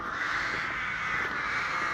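Crows caw loudly and continuously at a bus stop near Chichester, their harsh calls overlapping into a steady noisy chorus close by.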